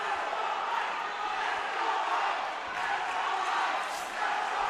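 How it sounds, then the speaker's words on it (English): Crowd at a Team Combat League fight at the Osceola Event Center in Orlando roars in a steady, dense wash of cheering and shouting, filling the arena continuously with slight swells. "Crowd making some noise at the Osceola Event Center."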